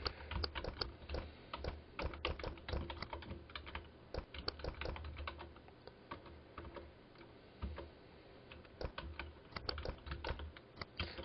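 Fingers tap steadily on a computer keyboard in quick, uneven bursts of close clicks, with short pauses between runs and no speech.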